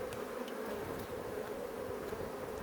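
A dense, continuous drone of many honeybees buzzing together in a hive, steady and close, with no voices.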